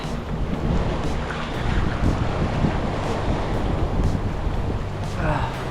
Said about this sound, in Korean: 파도가 좀 있는데요